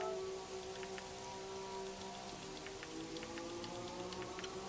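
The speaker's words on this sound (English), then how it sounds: "Pissing down rain now" Heavy rain pouring down and drumming on a surface, a steady dense patter with distinct close drops spattering throughout, loud and continuous with no voices.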